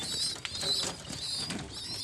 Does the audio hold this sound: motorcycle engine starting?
no